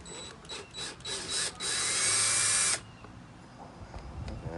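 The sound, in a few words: power drill removing a screw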